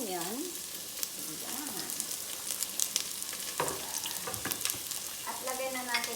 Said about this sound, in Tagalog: Ilagay na natin ang ating mantika. Ilagay natin, igisa natin ang ating onion.